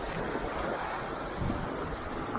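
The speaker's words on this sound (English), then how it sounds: "you could probably see the waves pounding all the way up" Sea waves pound into a rocky cove below Morte Point in North Devon, a steady broad roar of surf mixed with wind noise, continuous and fairly loud with no speech.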